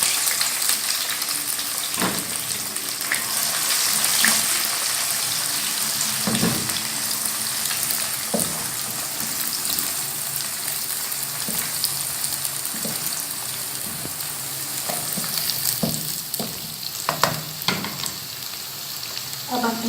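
Chopped onions fry with cumin seeds in a pan, giving a dense, continuous sizzle for about twenty seconds, broken by occasional scrapes and knocks of stirring.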